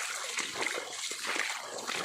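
Water splashes and rushes steadily along a stream between two waterfalls in Karbi Anglong, a close, continuous broadband wash with small splatters and no voices.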